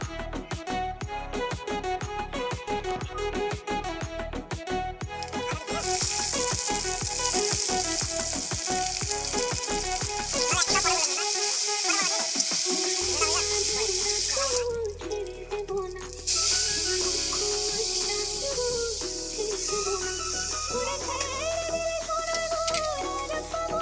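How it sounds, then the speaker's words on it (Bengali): Cumin, bay leaf, dried red chilli and ginger frying in hot oil as a tempering for moong dal, a steady bright sizzle running throughout, heard beneath continuous background music. "ফোড়নটা দিয়ে আদা ভেজে ডালটা দিয়ে দিল।"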